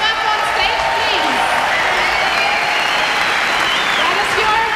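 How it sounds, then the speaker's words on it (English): Audience applause at a stage event, steady dense clapping from a crowd throughout, loud and continuous with no break. "That is your applause."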